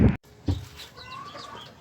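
Backyard chickens in a small coop give a few soft clucks and short calls, close by, after a brief loud bump at the start, with quiet ambient noise between.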